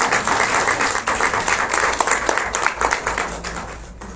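An audience at a Spanish-language talk on children's education breaks into sustained applause, dense rapid clapping that swells and continues for several seconds before tapering slightly at the end.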